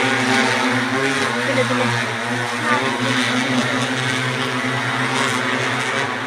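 A droning, buzzing motor hums steadily overhead, loud and continuous like a drone flying close by, with no speech.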